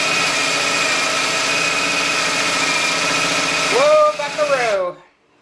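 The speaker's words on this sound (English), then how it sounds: "so the drill bit just started coming through, and in order not to have this side split, we're going to now drill in the rest of the hole from this side" A power drill bores a hole through a wooden slab door during installation, a loud steady whirring drone for several seconds that dips and wavers as the motor slows, then stops abruptly.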